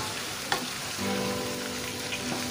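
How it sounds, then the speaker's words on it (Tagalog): Pechay (bok choy) sautés in a pan, a soft continuous sizzle with a clink of a utensil and a brief tonal hum as the greens are stirred. "igigisa ko ulit yung pechay"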